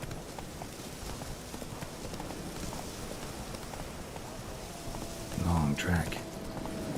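Roach the horse galloping in The Witcher 3, steady hoofbeats drumming under a brief spoken line, with a louder burst of clatter near the end over ambient game background.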